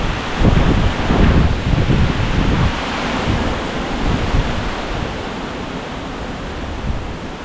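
Steady roaring wind buffets an outdoor microphone beside a 1969 Ford Galaxie XL convertible, a dense broadband rush with gusty low rumbles that stays loud and continuous throughout, with no voices.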